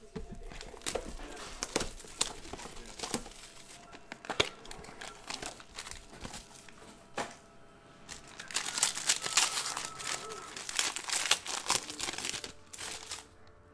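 Foil wrappers on packs of 2018-19 Panini Spectra basketball cards are torn open and crinkled up close, a busy run of crackling rips and rustles with a louder burst of crumpling toward the end.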